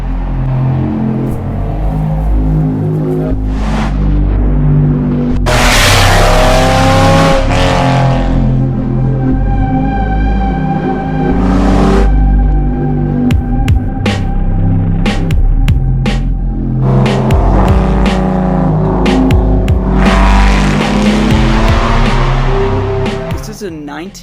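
A 1999 Porsche 911 (996) rumbles in and revs loudly nearby, its engine tone swelling and falling in several surges with rising whines between them, while a voice talks over the sound for much of the time.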